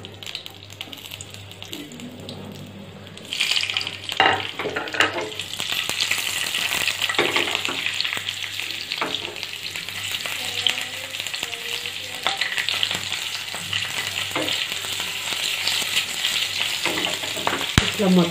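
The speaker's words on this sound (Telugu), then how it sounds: "ఆయిల్ వేడెక్కిన తర్వాత కొంచెం ఫ్రై లాగా చేసుకుందాం." Green chili masala curry frying in hot oil, a dense continuous sizzle that swells after a few seconds, with scraping stirs and small clinks of a spoon against the pan, close and fairly loud, no speech.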